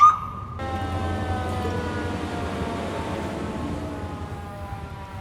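An ambulance siren wails continuously at an emergency scene after a short sharp tone at the start, holding steady and fairly loud before fading slightly toward the end, with no voices.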